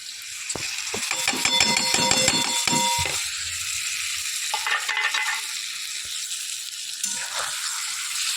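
Ground spice paste with cumin powder, chili powder and sauce sizzles and fries in a pan while being stirred, with a spoon scraping and clinking loudly against the metal early on, then a steady sizzle.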